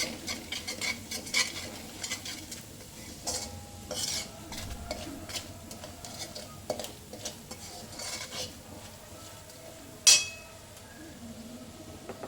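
Garlic paste sautéing in oil with a pinch of hing and salt for lasaniya sev mamra: repeated spatula scrapes and stirring against the pan over a quiet sizzle, with one sharp clatter near the end.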